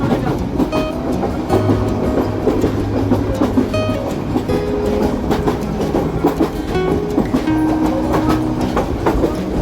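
The Kishoreganj Express rolls along its rails through Dhaka with a loud, continuous rumble and rhythmic clickety-clack of wheels over rail joints, heard up close from on board the moving train.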